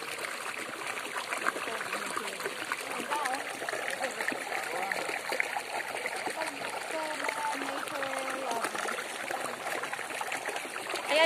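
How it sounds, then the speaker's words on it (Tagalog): Water splashes continuously as someone wades through a shallow stream or river, a steady watery churn under people talking nearby. "Gusto ko mag-try magtampisaw sa ano, sa tubig."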